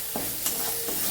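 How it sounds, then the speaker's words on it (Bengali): A spice mixture fries in a pan before being mixed into boiled potatoes for aloo paratha. A soft sizzle runs throughout, broken by a few sharp stirring scrapes, with no speech. "মশলাটাকেও এখন ভালো করে একটু ফ্রাই করে নিচ্ছি।"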